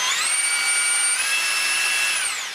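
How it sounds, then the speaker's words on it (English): A DeWalt 18V XR brushless SDS hammer drill spins in normal drilling mode, a steady, loud, high-pitched motor whine with no hammering, running for about two seconds before winding down. "We can put it on normal drilling."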